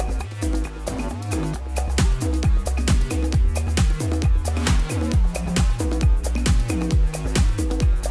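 A drum beat with punchy kick and crisp hi-hats drives along over a bouncy, sliding bass line, steady and energetic throughout.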